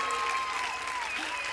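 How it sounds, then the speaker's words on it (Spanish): Loud applause from a crowd at an outdoor pro-life rally, dense continuous clapping that fills the short stretch, with a few voices faintly mixed in. "Así que un aplauso muy fuerte"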